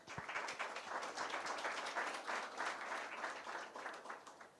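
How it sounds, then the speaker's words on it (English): A room of attendees at a G20-related panel discussion claps for the panelists, steady dense applause running the whole time at moderate level, with no voices over it. "if everybody could just join me quickly in a round of applause for our panelists"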